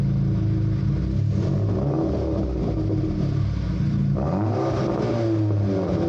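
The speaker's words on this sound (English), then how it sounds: "now there's no more rattle and this exhaust sounds" Aftermarket exhaust on an Audi TT revs hard and loud, engine pitch climbing and falling in a continuous roar, with no talking.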